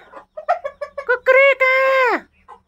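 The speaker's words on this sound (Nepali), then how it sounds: "यो चाहिँ मेरो ब्याडे हो है, रातो भाले ब्याडे" A red local rooster on a Nepali chicken farm lets out a run of short clucks that build into a loud, sustained crow, close to the listener, followed by a faint final cluck.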